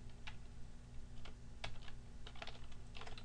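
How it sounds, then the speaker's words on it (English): Keys clatter on a computer keyboard in scattered bursts, near and fairly soft, over a steady low electrical hum with no voices. "And here you can type a message."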